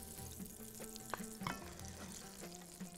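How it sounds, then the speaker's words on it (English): Onion sautéing in hot oil in a home kitchen while cooking Bahraini macaroni, a steady soft sizzle with occasional stirring clicks and scrapes, moderately quiet throughout. "Put it here because we're going to saute the"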